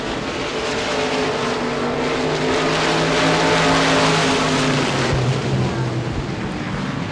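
Modified race cars battle through turn four at Devils Bowl Speedway, a dirt oval, their engines roaring loud and continuous with rising and falling pitch as they pass close by.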